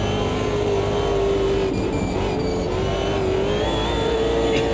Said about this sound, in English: Rear just spinning up as we hook over the curbs